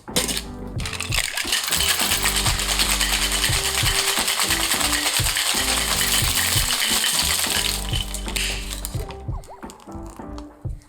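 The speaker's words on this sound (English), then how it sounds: "We're gonna fill the shaker with ice and give it a good shake for about 10 seconds." Ice and egg white rattle hard inside a cocktail shaker in fast, continuous clattering strokes for about nine seconds, close and loud, before stopping abruptly.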